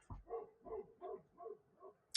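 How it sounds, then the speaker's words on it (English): An Anatolian shepherd dog barks outdoors, a quick run of faint, distant woofs in an even rhythm. "I don't know if you guys could hear that barking."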